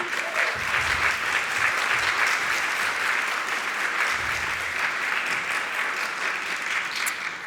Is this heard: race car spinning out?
no